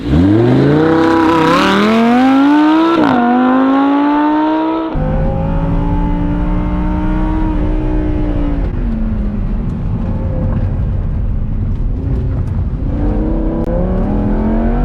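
A two-week-old supercharged Lamborghini accelerates hard around a race track, its engine note climbing through the gears with a shift, then holding a loud sustained roar and supercharger whine, close and constant with no talking.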